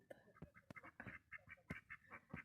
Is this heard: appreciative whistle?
no